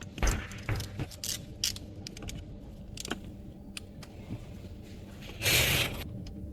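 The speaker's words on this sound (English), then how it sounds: "now you can tighten and torque the injector pump pulley and also the camshaft pulley bolt" Metallic clicks and ratcheting knocks come from tools tightening the injector pump pulley and camshaft pulley bolts on an LDV 2.0 diesel engine, a run of close, sharp, irregular taps with one longer rasping burst near the end and no talk.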